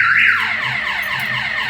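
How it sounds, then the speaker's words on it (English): An electronic car alarm on a 2003 Chevy Silverado with a Viper remote start alarm system wails nearby, a rising tone followed by rapid repeating sweeps, loud and continuous with no other sounds. "it won't even start because the alarm's going off"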